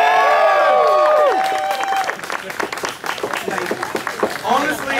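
A theater audience at a live stage show bursts into loud, sustained applause and cheering, with clapping filling the whole stretch and a few shouted voices rising over the crowd.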